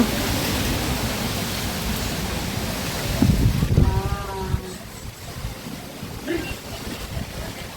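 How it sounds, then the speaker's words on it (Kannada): Strong wind gusting around a village house, a steady broadband rush with a louder buffeting burst midway, all close to the microphone with some wind noise on it. "ನೋಡ್ಬೋದು ನೀವು ಎಷ್ಟು ಜೋರಾಗಿ ಗಾಳಿ ಬರ್ತಾಯಿದೆ ಅಂತ"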